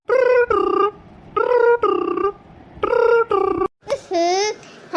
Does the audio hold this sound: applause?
no